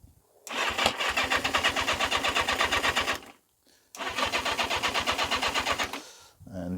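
Yamaha XJ650 motorcycle engine cranking on the starter on prime fuel, two long bursts of rapid rhythmic churning separated by a short silence, close and loud, not catching.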